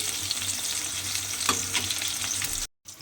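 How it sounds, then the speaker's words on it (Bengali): Eggplant slices sizzle steadily in hot oil in a wok with a constant crackling hiss, a few louder pops, then a brief cut to silence near the end. "বেগুনগুলোকে প্রথমে লাল করে একটু ভেজে নেব এপিট ওপিট করে উল্টে পাল্টে"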